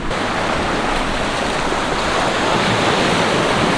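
Continuous broadband wash of sea waves and surf at a beach while a grape wine jar is rinsed in the sea, loud and close with no talking.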